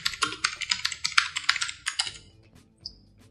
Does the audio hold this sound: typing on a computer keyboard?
yes